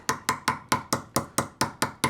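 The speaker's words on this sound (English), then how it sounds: "And then you're going to take your hammer, find your score, and just lightly tap along the spine" A hammer lightly taps along a scored line on a clear cocktail ice block ten times in a steady, even rhythm, each strike crisp and close.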